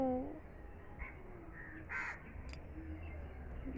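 One harsh crow caw rings out, with a few fainter bird chirps around it, against a quiet outdoor background.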